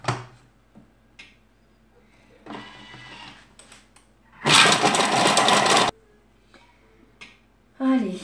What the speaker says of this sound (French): Je mets le couvercle. On va hacher le tout.